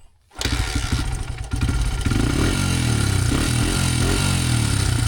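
A Honda dirt bike engine cranks over and catches, then settles into a steady, loud, close-up running putter with a slightly rising throttle, alone with no talk.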